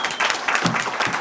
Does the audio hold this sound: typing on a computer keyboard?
no